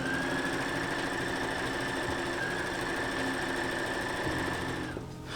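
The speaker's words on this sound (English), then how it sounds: "Now I can use my sewing machine and sew along the edge here, attaching the cone" A sewing machine stitches steadily along the edge of a handmade wizard hat, joining the cone to the brim with a fast, even mechanical whir that cuts off near the end.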